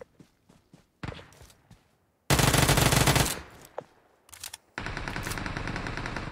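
Automatic weapon fire in PUBG Mobile: scattered single shots and footsteps, then two long, loud sprays of rapid gunfire separated by a short lull, close and dense against a quiet background.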